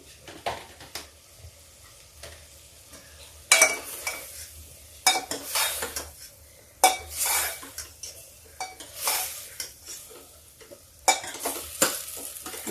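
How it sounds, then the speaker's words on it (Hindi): Eggplant and chana dal sauté in a pan while a metal spoon scrapes and clanks against it in repeated bursts over a low sizzle, fairly close with no voices. "इसको खूब कस के भून देंगे।"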